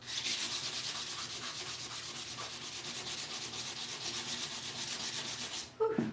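Paint is sanded off a wooden Art Deco magazine rack in quick, rhythmic rasping strokes close by, ending with a short clatter and no talking.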